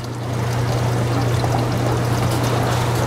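Water rushes and pours steadily as an air-driven aquaponics bead filter backwashes and drains, a loud continuous wash with a low hum beneath it.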